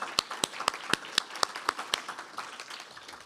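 An audience at a faculty presentation applauds Donika Kelly with evenly spaced, crisp handclaps that stand out distinctly at first, then thin into softer, scattered clapping as they fade.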